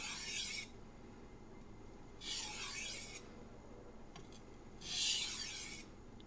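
Knife edge being sharpened with edge-leading strokes on a single whetstone: three separate gritty rasping strokes, close and fairly quiet, with short pauses between them.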